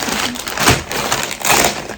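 Plastic wrapping crinkled and rustled by hand while a birthday gift is unboxed, close and fairly loud, in uneven bursts with two stronger swells of crackling.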